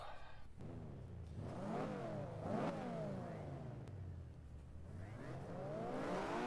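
Mazda RX-8 in Forza 5 on the London Top Gear test track, its engine revving up and down through repeated climbing and falling sweeps, loud and close with no talk.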